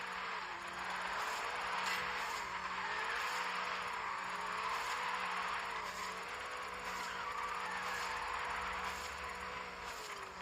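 Tires squealing as a car drifts in Forza Horizon 5, a steady, continuous screech with a wavering engine drone beneath, held for the whole stretch without letup.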